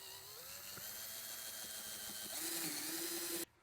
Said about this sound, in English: So let's go ahead and get our drill and drill us a hole.